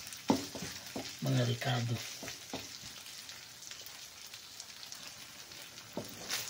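Meat sizzles steadily in its own rendered fat in a pan, a continuous crackling fry running underneath, with a brief stretch of a person speaking near the beginning.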